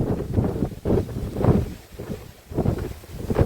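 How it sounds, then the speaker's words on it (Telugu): Strong wind gusting through a forest in the Nallamala hills with light rain falling, a continuous rushing roar that swells and dips in waves close to the microphone. "కొంచెం గాలి కూడా భయంకరంగా వేసుకుంది వాన ఒక రైన్ డ్రాప్స్ అయితే పడుతూ ఉన్నాయి"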